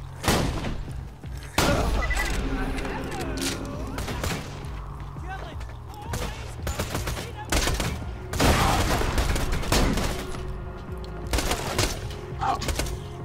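Gunfire in Borderlands 2, a sci-fi shooter, with sharp bursts of shots cutting in and out over a steady low drone, loud clusters at intervals and a voice talking between them.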